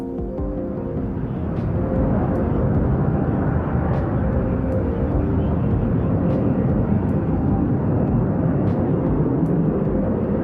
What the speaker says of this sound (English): He actually lets the aircraft go backwards. It's called a tail slide.